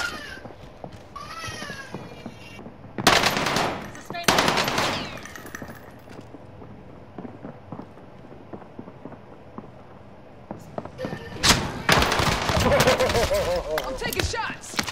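Gunfire in a video game match comes in two loud bursts of rapid automatic fire, then a quieter stretch, then another sustained volley, with talk from a player in between.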